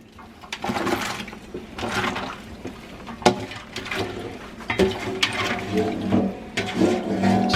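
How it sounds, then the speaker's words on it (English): Water runs and splashes in bursts as pickled mustard greens are rinsed of salt water by hand, the washing loud and close with intermittent sloshing and no talk. "now I'm gonna go ahead and rinse the salt water out a little bit"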